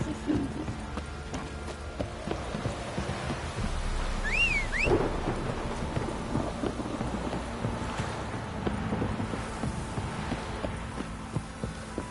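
Steady rain hisses throughout with low rumbling thunder and a few higher chirping tones in the video game The Witcher 3: Wild Hunt, dense and continuous with no talking.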